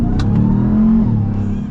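Supercharged Hellcat V8 in a Ram TRX pickup revving loudly while driving, a strong steady engine roar with rising harmonics throughout, close and alone.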